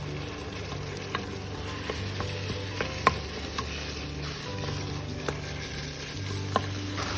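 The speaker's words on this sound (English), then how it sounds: "I like to cook mine right along with my meat so that they get done at the same time" Vegetables and meat cook together in an Instant Pot with a low, steady sizzle. Sparse light clicks and taps of a utensil sit over it, and no one talks.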